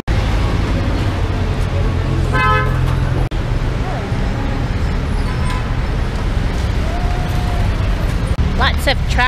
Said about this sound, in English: Lots of traffic, bumper to bumper.